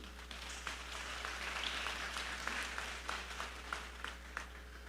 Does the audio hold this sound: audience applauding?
yes